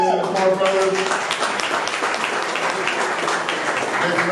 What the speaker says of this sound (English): a big round of applause for hosting us